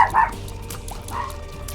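Volcano dog enemies in The Binding of Isaac: Afterbirth let out two short barks, the first louder, over faint game background noise.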